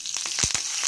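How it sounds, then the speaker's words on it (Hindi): Curry leaves crackle and sizzle in hot oil for a tadka being prepared for instant suji idli, a close, continuous frying hiss with a few sharp pops. "करी लीव्स को भी हमने यहाँ पे फ्राई कर लिया है"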